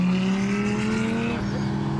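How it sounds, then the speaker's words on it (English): A safety car engine drones loudly and steadily nearby on Snetterton race circuit, its pitch holding then dipping slightly as it passes. "they've got the safety car out."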